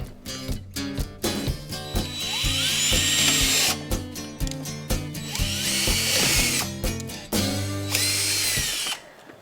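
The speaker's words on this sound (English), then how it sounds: "we're going to go ahead and drill holes so that we have plenty of drainage in our decorative" A power drill bores drainage holes in a decorative container, loud whining bursts of drilling that stop and restart several times, separated by short pauses, close up and alone.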